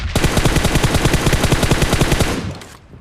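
Rapid automatic gunfire in the Free Fire battle royale game, a loud, steady burst of evenly spaced shots lasting over two seconds before cutting off, with no voices.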